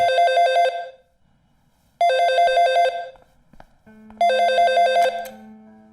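A telephone rings three times in clear electronic bursts separated by short pauses, loud and close, with faint room noise between the rings.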